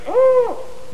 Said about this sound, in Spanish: el búho manchado del norte.